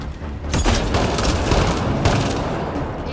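Sustained turret gunfire in the video game Mass Effect Andromeda, a loud dense barrage of rapid shots and booms filling the whole few seconds with no speech.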